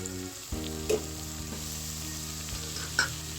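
Washed, drained red amaranth greens drop into hot turmeric-tinged oil, setting off a steady close sizzle with a couple of sharp crackling bursts as the leaves hit the pan.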